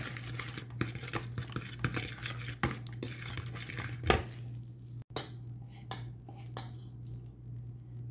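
Protein pancake batter being mixed in a bowl with a utensil, irregular scraping and clinking strokes up close, pausing briefly then resuming in sharper, sparser knocks against the bowl.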